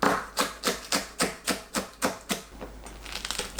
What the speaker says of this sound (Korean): 파를 쫑쫑 썰어주세요.